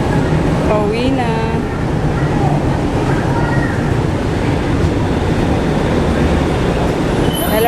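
Steady rumble and rattle of a moving light rail train, loud throughout, with wheel and track noise and some squealing tones.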